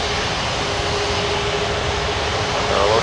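A jet airliner roars on takeoff from runway 23 at Toronto Pearson airport, a loud steady broadband engine rush with a faint whine, building slightly toward the end.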